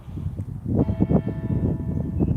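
Church bells ring out at eight o'clock over St Mary's churchyard in Whitby, a steady run of resonant strikes sounding close and fairly loud, layered with overlapping tones in the open air.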